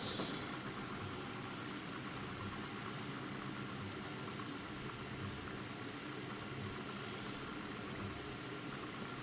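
A small pulse motor driven by a signal generator and an NPN transistor runs at about 500 RPM, giving a steady, continuous whirring hum with no pauses throughout.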